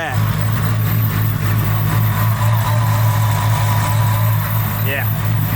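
A high-horsepower Fox-body car with a 2500 hp engine idles loudly and steadily, a dense low rumble filling the whole stretch up close, with people talking over it.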